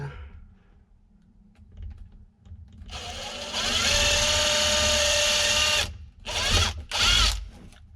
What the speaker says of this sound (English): I'm gonna throw another rivet in here for a little extra support on there.